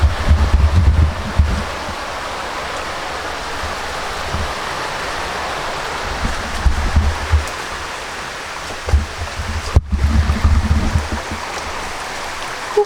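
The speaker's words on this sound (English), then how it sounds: "it looks like we're about to do a river crossing" A river in Panthertown Valley rushes steadily during a hiking crossing, a continuous close wash of water with occasional low thumps of wind or handling.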